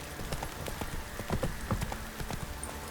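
Horse hooves clip-clop in a quick galloping rhythm in The Witcher 3 game, steady close hoofbeats over faint background ambience with no speech.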